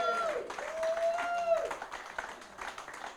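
Live audience at a Cheltenham Festival 2023 horse racing preview evening applauds and cheers for a panel guest, a steady wash of clapping and crowd noise with a voice briefly rising over it.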